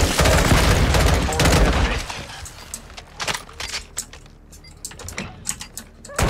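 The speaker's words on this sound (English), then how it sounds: "Taking fire" Automatic gunfire from a Call of Duty: Modern Warfare II DMZ match rattles loudly in dense bursts for about two seconds, followed by sparser scattered shots and impacts, some distant.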